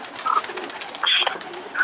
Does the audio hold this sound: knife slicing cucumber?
no